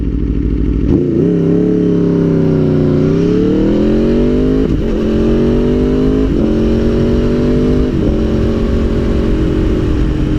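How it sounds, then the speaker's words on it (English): Motorcycle fitted with a quick shifter, upshifting without the clutch: a loud, close engine revs hard and drops pitch briefly at each of several gear changes before climbing again. No speech. "let off the gas briefly and shift up in that moment."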